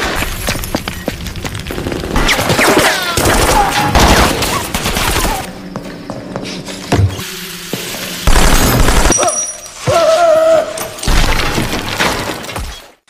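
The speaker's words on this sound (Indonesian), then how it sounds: "langsung menghujaninya dengan tembakan" Bursts of rapid gunfire crackle and boom in a chaotic volley, with sharp impacts and shattering debris, loud and close throughout.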